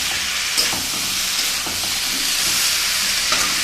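Bottle gourd greens and taro stir-frying in a pan: a steady, close hiss of sizzling oil with a few soft scrapes of stirring throughout, no voices.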